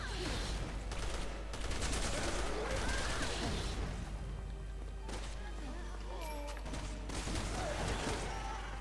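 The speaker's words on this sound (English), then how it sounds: "Oh, they are shooting her" Bursts of gunfire in the Resident Evil 6 Ada campaign, rapid shots and crashes layered over a loud game soundtrack and effects, with a person talking throughout.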